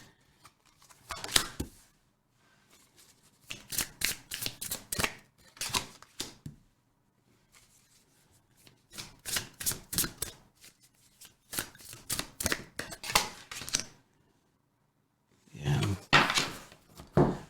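Celestial Tarot cards shuffled by hand in several bursts of brisk riffling and flicking, separated by short quiet pauses, close and crisp with no voices.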